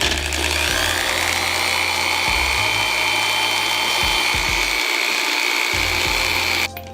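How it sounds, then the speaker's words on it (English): A power drill with a different drill bit bores into a workpiece, a loud continuous grinding whir with brief dips and restarts in its low rumble, cutting off abruptly near the end. "So I'm gonna try using this other drill bit."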